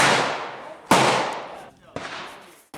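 Pistol shots from a .40 S&W loaded with 170-grain powder-coated cast bullets over Alliant powder at an outdoor range, two loud, sharp close-up reports about a second apart, each with a ringing decay and echo.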